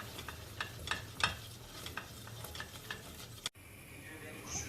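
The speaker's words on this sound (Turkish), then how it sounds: "2 yemek kaşığı unumu tencereye alıyorum. Ve artık karıştırarak biraz kavuruyorum" A spoon scrapes and stirs steadily around a pot of toasting flour, with a soft sizzle beneath the rhythmic strokes.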